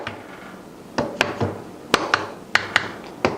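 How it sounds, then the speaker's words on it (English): Light hammer taps as a flange is tapped back onto an engine starter, about eight sharp metallic knocks in an uneven rhythm, close and alone. "Gently tap the flange back to the starter"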